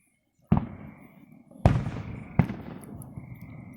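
Fireworks at the West Jeff fireworks show burst in three sharp, loud booms spaced about a second apart, each trailing off into crackling rumble and distant crowd ambience.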